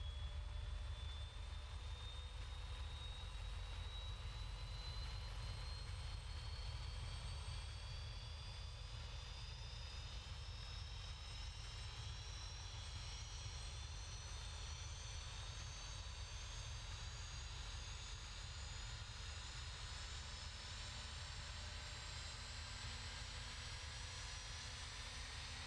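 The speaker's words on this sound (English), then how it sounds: "You'll hear the engine start here." BAE 146-300 jet engines spool up in a flight simulator, a continuous loud roar with rising whines that climb steadily in pitch as the engines start and settle into running.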